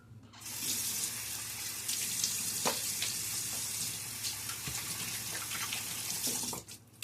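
A bathroom tap runs in a continuous steady stream of water during a wet shave, a close hissing splash that stops abruptly near the end with no voices.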